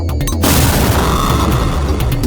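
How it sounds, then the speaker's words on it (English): Explosion effect of a xenomorph blowing up in the Sega Mega Drive game Alien 3, a loud, sustained booming blast after a brief opening crackle, with dense noise holding steady to the end. "The sound effects are explosive and you can really feel those xenomorphs exploding."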